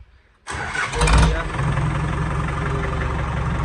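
A Digitrac PP46i tractor cranks on its self-starter after a brief quiet moment, catches with a loud burst, then settles into a steady, close, low diesel idle.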